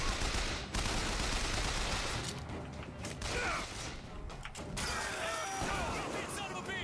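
Shotgun blasts and mechanical reload clatter from the BioShock Infinite video game ring out over busy game noise, with several sharp bursts and creaks and a player talking at times.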